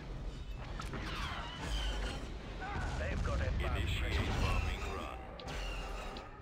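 A bombing run in a Galactic Empire strategy video game brings a rolling series of heavy explosions and crashes, with booming low rumbles and overlapping blasts that swell and fade over several seconds.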